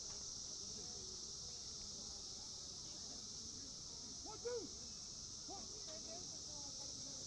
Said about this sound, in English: it seems like the noise of the cicadas has died down